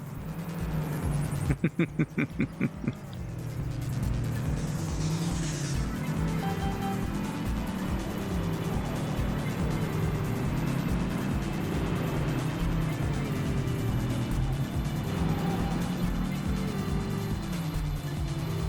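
Dodge Viper engine in the PS1 racing game Vanishing Point, a steady loud droning engine roar throughout, with a rapid burst of clicks and a brief crash-like hiss early on.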